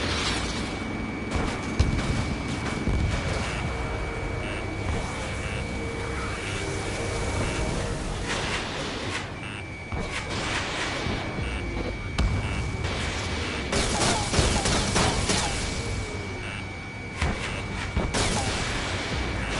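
Missile launches and weapon fire during an aerial dogfight in Ace Combat 7, set in a dense, continuous roar of jet engine and combat noise with occasional sharper bursts.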